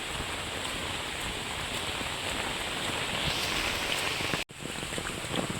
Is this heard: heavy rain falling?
yes